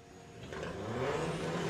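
A Seat Ibiza drag car launches down the strip at Santa Pod Raceway, its engine building from a moderate drone into a louder, rising roar heard from a distance with no talk.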